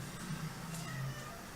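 A pet cat meows in a short, fairly close call, with faint background noise and a brief voice nearby.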